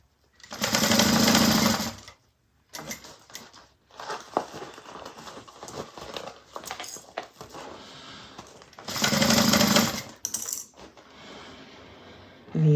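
A sewing machine stitches a bag in two loud, close bursts of rapid whirring needle action about two seconds each, separated by quieter handling rustles and clicks.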